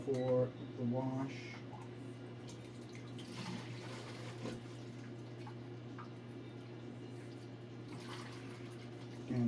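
Water runs steadily while washing a film developing tank during Arista E6 processing, a constant low rushing and trickle that continues throughout, with a voice speaking briefly at the start.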